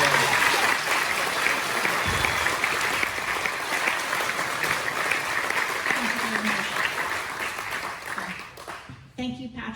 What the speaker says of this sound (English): please let's just give her a great hand of applause